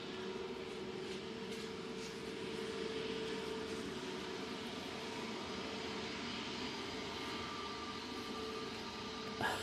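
Aircraft at Manchester Airport in Storm Kathleen crosswinds: a distant, steady jet engine roar mixed with broadband wind rumble, held evenly for about ten seconds at low level.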